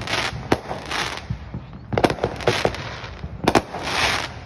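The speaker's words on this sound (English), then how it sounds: "our neighborhood fills up with illegal fireworks every 4th of July" Illegal neighborhood fireworks go off on the Fourth of July, a series of sharp bangs and crackling pops at irregular intervals, some close and loud, others more distant, with fizzing bursts between them.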